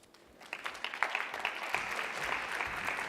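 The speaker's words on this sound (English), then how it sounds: "A big round of applause for all of the presenters on the panel" An audience at a panel session of a world forum on gastronomy tourism breaks into applause that builds from scattered claps to a steady, sustained round heard from within the room.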